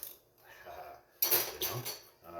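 A metal spatula and tongs clatter and scrape against a pan as seared beef is lifted out for lo mein, sharp metallic knocks close by with a voice talking.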